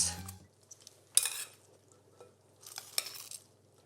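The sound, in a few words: tossing chilled cooked green beans in a bowl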